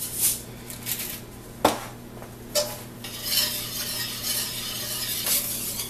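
A whisk stirs thickening sausage gravy in a pan, giving soft scraping and clinking strokes with a few sharper taps against the metal, close and steady over a low background hum.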